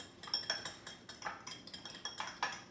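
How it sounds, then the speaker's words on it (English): A whisk clinking and tapping rhythmically against a bowl while beating eggs, a quick run of light metallic strokes, close and fairly quiet, with no voices. "we're going to whisk the eggs into the bowl so it's nice and smooth"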